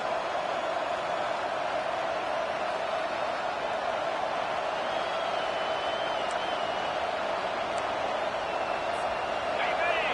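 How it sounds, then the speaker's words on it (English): A video game stadium crowd: a dense, constant roar fills the air, steady and distant-sounding, with a few faint whistles rising over the din. "It's early, but this crowd is fired up. Listen to this noise here."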